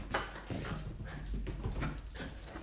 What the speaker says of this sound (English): Happy dog, happy dog.